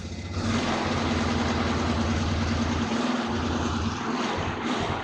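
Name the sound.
2002 Polaris Sportsman 400 ATV engine idling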